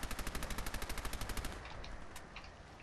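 Rapid automatic gunfire from an overpowered gun in Fallout 4, a steady burst of about twenty loud close shots over a second and a half, then cutting off into a fading tail and faint scattered noise.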